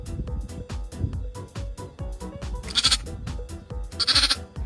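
An anxious sheep bleats near a dog guarding a young puppy, two loud wavering cries that rise over a steady, rhythmic musical beat.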